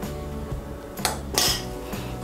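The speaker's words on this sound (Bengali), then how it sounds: "ডালটাকে ভালো করে আমি এভাবে খন্তা দিয়ে মিশিয়ে নেব।" A spatula works through a lentil and rice flour mixture in a metal pot, giving a low rumbling scrape and two brighter metallic clinks against the pot, close up and with no voices.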